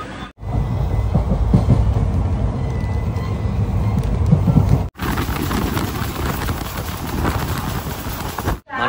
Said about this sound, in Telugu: మన ట్రైన్ అయితే ఇప్పుడే చెంగల్పల్లి స్టేషన్కి వచ్చింది